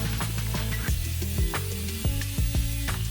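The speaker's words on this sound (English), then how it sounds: "I'm using a grinder and a grinding wheel to cut it out" Angle grinder with a grinding wheel cutting through rectangular steel tubing in a home workshop: a loud, continuous abrasive whine with a dense harmonic drone that shifts pitch repeatedly as the wheel bites and eases.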